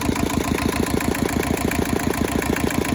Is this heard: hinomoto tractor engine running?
yes